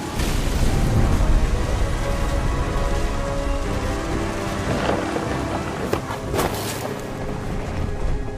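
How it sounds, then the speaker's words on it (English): A storm in the video game What Remains of Edith Finch: steady heavy rain pours on a surface, with deep rumbles of thunder rolling underneath and a couple of sharper cracks near the end, no voices. "The thunder sounded much too close and full of angry power"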